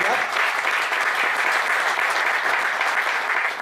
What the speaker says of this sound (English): round of applause for Craig